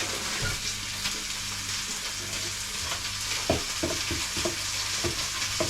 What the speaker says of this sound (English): Now put that straight in the pan.